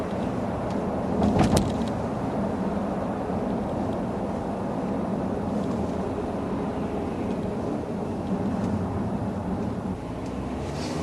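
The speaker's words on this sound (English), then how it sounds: "I really have no complaints at all about the way this vehicle drives." A 2015 Volvo V60 T5 rolling along the road, heard from inside as a steady low engine and road hum with a brief louder swell near the start, no voices.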